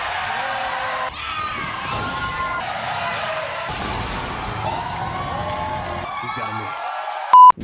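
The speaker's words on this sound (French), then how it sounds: "À chaque fois qu'il se passe un truc, ils gueulaient tous ensemble." A crowd at the E3 2019 gaming expo shouts and cheers loudly together, a dense roar that rises and falls with whoops, ending in a short sharp burst.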